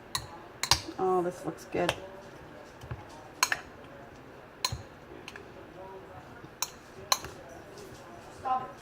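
Utensils clink and scrape against a bowl as recipe ingredients are stirred together, irregular sharp taps scattered across quiet background, with a brief spoken comment.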